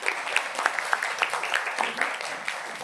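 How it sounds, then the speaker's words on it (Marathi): A school audience at a student poetry and music performance gives a round of applause, dense clapping with sharper individual claps standing out, moderately near and lasting the whole few seconds. "प्रत्येकाच्या योगदानासाठी छोटी किंवा मोठी एकदा जोरदार टाळ्या."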